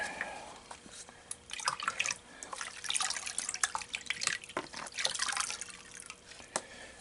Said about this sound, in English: I'm going to rinse out some of this material out of here